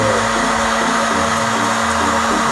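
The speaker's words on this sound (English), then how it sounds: "So the fan rotates it so the heat is spread evenly amongst the corn." Popcorn machine fan blowing hot air over corn kernels, a loud, steady whooshing roar like a hair dryer that runs unbroken throughout.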